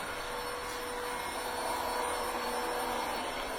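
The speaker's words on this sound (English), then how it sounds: "we're in here vacuuming now, getting ready to coat this bad boy" A vacuum cleaner drones steadily while vacuuming a Brazilian cherry wood floor being refinished, a continuous close-up motor whine and airy rush with no breaks.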